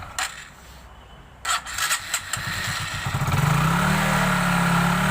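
A Hero Super Splendor motorcycle engine, freshly repaired after a crank knocking fault, starts with a few sharp bursts then settles into a steady, loud, even idle running close by with no voices.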